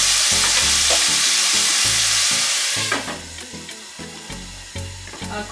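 Very thin-sliced steak hits a hot stir-fry pan with a loud, steady sizzle and hiss, up close, while the meat is stirred and scraped around. The frying eases a little partway through.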